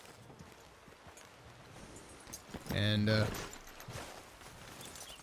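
Horse hooves in the video game Red Dead Redemption 2: a brief, loud run of clip-clop steps in the middle, heard under someone talking over quiet outdoor ambience.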